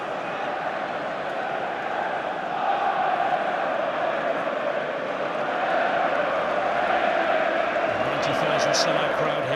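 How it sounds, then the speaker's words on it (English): Sellout football crowd at Wembley Stadium for a League Cup final between Liverpool and Manchester City: a constant distant roar and murmur of a huge crowd throughout, with a commentator speaking over it. "Sellout crowd here at Wembley today."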